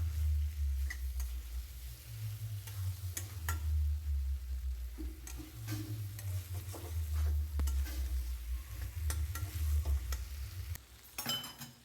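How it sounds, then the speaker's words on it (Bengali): Pointed gourd (potol), already fried, being stirred in sizzling oil for a potol dorma curry: a steady close sizzle with irregular spoon scrapes and taps against the pan, no talking. "সেই পটলটা দিয়ে আবারও 1-2 বার নেড়ে নেব দেখুন"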